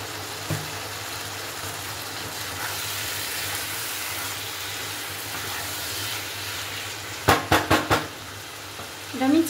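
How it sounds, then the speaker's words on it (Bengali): Goat meat sautéing in a pan with a steady sizzle and frequent stirring scrapes, followed by a short run of sharp metallic knocks near the end; no talking. "মাংসটা দিয়ে এটা আমি কষাতে থাকবো।"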